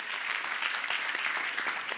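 Audience applause for a child at a leadership training session, a dense and steady clapping from a sizable crowd that fills the whole stretch at moderate loudness, with no talk over it.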